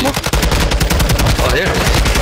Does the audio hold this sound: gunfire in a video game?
yes